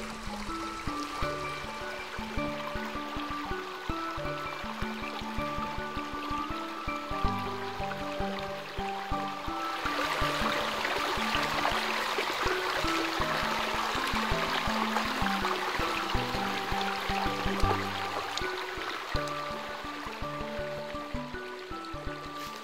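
A fast-flowing forest stream rushing steadily over stones, a continuous close wash of water that swells and brightens in the second half, with no voices.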